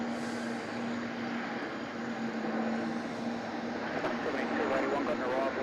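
A heavy aircraft rolls out after landing at Melbourne Airport, a steady engine roar with a sustained low tonal hum as it slowly decelerates on the runway, moderately faint and continuous.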